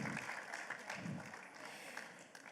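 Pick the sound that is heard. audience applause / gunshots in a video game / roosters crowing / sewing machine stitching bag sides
audience applause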